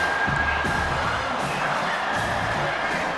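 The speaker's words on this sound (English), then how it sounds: "Here comes this home crowd." A home stadium crowd in EA Sports College Football 25 roars and cheers continuously, a loud, dense wash of voices and whoops with no pause.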